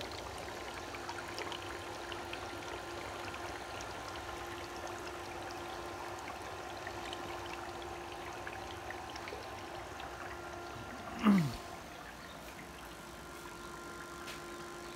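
A 10,000 watt electrolyzer bubbles steadily as it produces gas, a low, even fizzing hiss with a faint hum underneath and one brief louder burst near the end.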